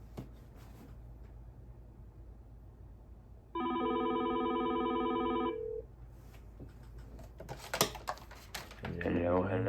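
An Avaya desk phone rings for about two seconds with a steady electronic trill, loud and alone. Clicks and rustles follow from the handset.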